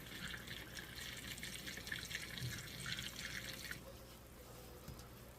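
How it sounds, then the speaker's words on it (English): A self-stirring cup spins liquid into a whirlpool, a soft continuous swirling and sloshing close by that eases off toward the end, with no voices. "We're making a whirlpool up in here."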